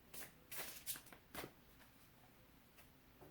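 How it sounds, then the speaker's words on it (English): A large tarot deck being shuffled by hand at a small table, with several quick riffling bursts in the first second and a half, then quieter handling and a brief final ruffle, close and fairly soft. "Got to give this one a good shuffle. It's a big deck"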